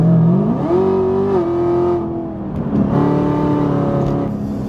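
A 1000 hp Chevrolet Camaro ZL1 Track Edition engine revs up, its loud, steady tone climbing in pitch, holding, then dipping before rising again, sustained throughout.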